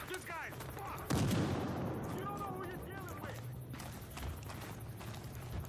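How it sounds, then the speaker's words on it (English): Nail gun shots in the shooter game Battlefield Hardline, a burst of sharp repeated cracks near the start over other game noise and clattering, with chirpy in-game sounds around them. "Yo, the nail gun."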